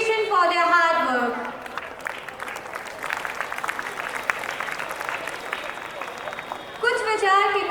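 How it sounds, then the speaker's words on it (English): A crowd at a Republic Day event cheers and applauds in a sustained burst, with a speaker's voice before and after it. "let's raise a cheer of appreciation for their hard work."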